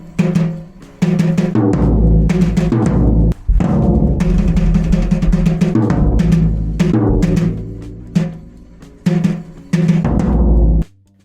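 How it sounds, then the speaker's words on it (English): A hybrid drum kit, half muted and half live, is played at a steady driving groove: dense, loud beats with sharp stick hits and crashes run continuously, pausing briefly a few times before cutting off at the end. "this drum kit is basically a hybrid of a live and a muted kit"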